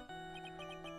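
A phone ringtone plays at close range as a short, repeating electronic chime, with a sustained tone under evenly spaced bright blips and no one talking over it.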